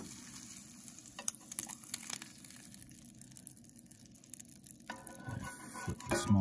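A cornmeal-coated trout fillet, freshly caught ice fishing, frying in a pan, a low continuous sizzle with scattered pops and crackles and some clatter near the end as it is flipped.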